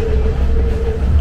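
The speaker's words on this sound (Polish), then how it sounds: "I w ten sposób wygląda wagon klasy trzeciej z pociągiem Ella do Kenti." A third-class carriage of the Ella to Kandy train in Sri Lanka rumbles loudly and steadily, a constant low rolling drone with a faint tonal whine and no voices.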